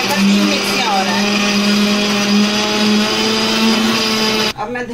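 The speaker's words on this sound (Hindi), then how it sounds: "मेरी सुमित की मिक्सी है, 35 साल पुरानी।" A 35-year-old Sumeet mixer grinder runs at full speed with a loud, steady whirring drone for several seconds, then cuts off abruptly near the end.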